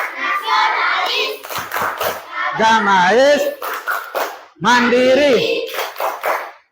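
A sixth-grade class claps in rhythm during a school chant, bursts of patterned hand claps alternating with loud shouted call-and-response voices, close and energetic.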